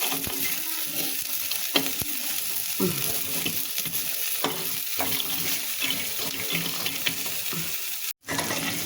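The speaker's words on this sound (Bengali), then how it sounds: "আস্তে জাল দিয়ে আস্তে আস্তে ভেজে নিতে হয় বড়িগুলো" Sun-dried lentil dumplings (bori) fry slowly in oil over low heat, giving a steady, close sizzle broken by occasional stirring and scraping, with a brief drop near the end.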